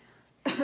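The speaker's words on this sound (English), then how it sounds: "I'm sorry about my dog coughing in the background" A dog gives a single short, harsh cough after a moment of quiet, close and fairly loud.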